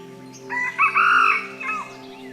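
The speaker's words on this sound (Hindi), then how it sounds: "ये आवाज़ जंगली मुर्गे की थी," A wild junglefowl crows once in a forest at Bijrani, Jim Corbett, a clear, fairly close cock-a-doodle-doo with a rising, drawn-out call over a steady background hum.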